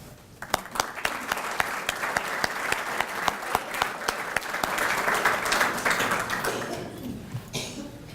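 A community audience at a volunteer recognition event applauds, a sustained burst of dense clapping with a few sharp individual claps standing out, fading toward the end.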